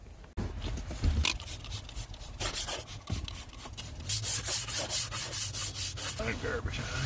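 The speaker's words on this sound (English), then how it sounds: "I'm going to take my super soft bristle brush here and just going to lightly scrub that in just to get some of the dirt and crud off there" A soft bristle brush scrubs dirt off a 1998 Chevrolet Silverado in a driveway, with rhythmic back-and-forth rubbing strokes close by that quicken toward the end, no talk over them.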